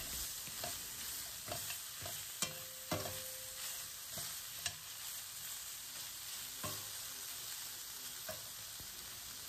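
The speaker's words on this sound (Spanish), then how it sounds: "ahora vamos a agregarle la cebollita. La cebolla la voy a dejar ahí a que se acitrone un ratito" Onion sizzling and frying in a pan alongside chicken, with steady broadband crackle and occasional utensil stirs and clinks throughout, fairly close, no talk.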